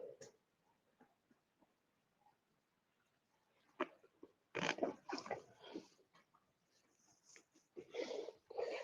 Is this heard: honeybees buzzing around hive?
no